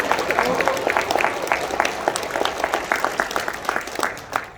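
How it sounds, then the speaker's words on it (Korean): An audience at a civic public hearing at a press center applauds, with steady, dense clapping from a crowd at moderate distance that thins out slightly toward the end, and a voice speaking faintly underneath. "동의하시면 박수."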